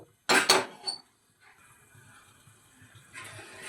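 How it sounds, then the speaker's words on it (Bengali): Metal wok set down on a gas stove burner in a home kitchen, a loud clattering clank with a short ringing follow-up, then quiet low rustling. "এবারে আমরা গ্যাসের মধ্যে কড়াটা বসিয়ে নেব।"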